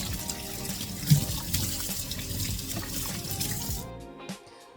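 Apples being washed under running water in a sink, a continuous splashing tap stream with small knocks and gurgles that cuts off near the end, leaving a few drips.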